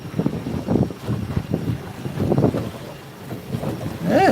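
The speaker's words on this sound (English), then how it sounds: "it's a little windy on this side" Wind buffets a microphone aboard a research boat out at sea, a loud, gusty rumble that rises and falls continuously with no voices.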